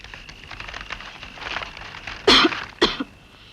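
Two abrupt coughs ring out close by against a faint background hiss, the first slightly longer than the second, in a scene from an old Hindi action film.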